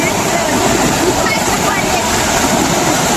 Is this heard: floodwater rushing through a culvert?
yes